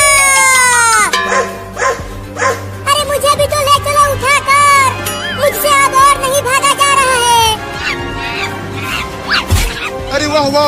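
A dog barks repeatedly and loudly at close range amid a busy layered mix of music and voices, the yaps coming in quick irregular bursts.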